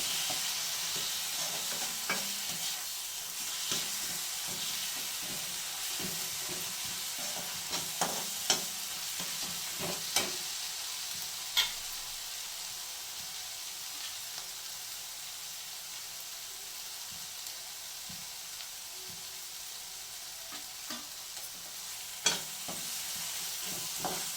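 Chicken frying in butter in a pan, a steady broadband sizzle running throughout with occasional sharp spatters and stirring scrapes; no voices.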